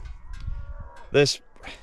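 A single short cow moo sounds out briefly on a South Dakota cattle ranch, near and fairly loud against quiet outdoor background with faint low talk before it.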